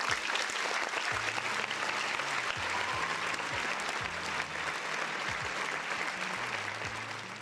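Steady applause from a group of people on a live reaction stream, dense and continuous clapping with a faint voice talking underneath.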